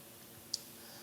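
A single sharp mouse click sounds once, brief and close, against a quiet room hum with no talking.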